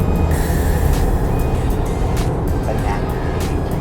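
A 2018 Chevrolet Colorado 2.5 LTZ Z71 VGT four-door pickup accelerates, its engine giving a steady, loud broadband rumble with road and cabin noise, heard from inside with no pauses.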